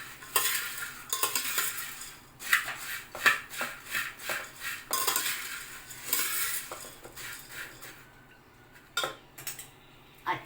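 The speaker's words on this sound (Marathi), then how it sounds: "पुन्हा एकदा दाणे मिक्स करून घेऊया." A spoon stirs peanuts into mixed puffed rice chivda in a pan, producing dry, rustling scrapes and clinks in an uneven rhythm, close up and moderately loud, with no voices.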